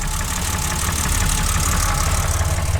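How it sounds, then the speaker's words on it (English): A worn BMW E30 with an M20 engine leaking oil idles roughly nearby, a loud continuous uneven rumble with a steady fast knocking pulse and no voices. "it's just not a great running motor"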